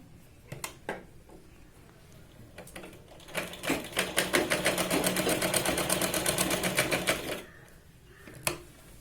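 A sewing machine stitches a blouse shoulder seam in one steady, rapid run of about four seconds, close and loud, framed by quieter handling clicks before and after.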